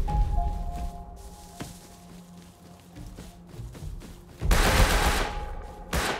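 Gunfire in the survival game Rust: scattered single shots and a loud burst of rapid fire near the end, with thuds and footsteps between, no talking.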